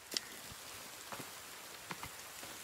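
Rain falls in the survival video game The Forest as a soft, steady hiss of drops on surfaces, with a few faint scattered taps standing out above the even wash.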